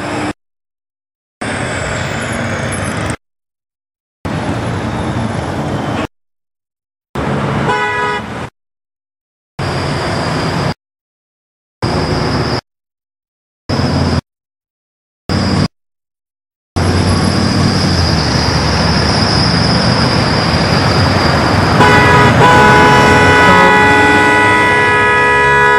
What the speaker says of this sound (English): like 24 hours a day I can hear that road from my house